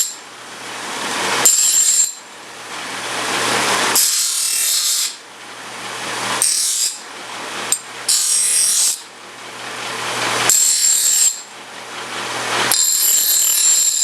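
A power tool grinds in repeated bursts of a few seconds each, loud and close, against the edges of reclaimed 1.5 inch Schedule 40 aluminum pipe, with brief pauses between passes.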